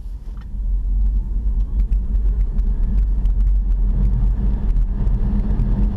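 BMW i3 94Ah electric car accelerating hard downhill, heard from inside as a loud continuous road and wind rumble with a faint motor whine and small ticks, steady throughout with no voices.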